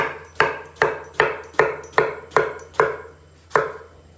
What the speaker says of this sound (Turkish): Hemen patlıcanlarımızı doğrayacağız.